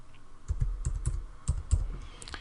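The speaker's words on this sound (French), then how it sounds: "je tape jardin" A computer keyboard clatters with a short burst of about ten close keystrokes in uneven rhythm, heard alone without speech.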